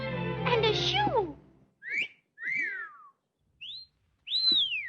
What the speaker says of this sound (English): Why'd they whistle at the shoe?